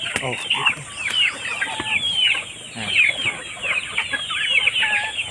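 Ducks gather at feeding time, a busy flock giving continuous close quacks and chattering calls that overlap and rise and fall.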